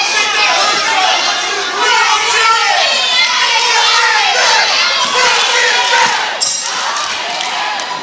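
A loud crowd at an independent wrestling show shouts and chatters continuously, with high excited voices and jeers blending into a dense roar throughout.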